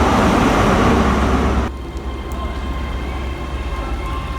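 A Network Rail high speed test train with class 43 power cars at both ends rushes past up close with a loud roar that drops suddenly into a lower, steady rumble and rattle of passing stock.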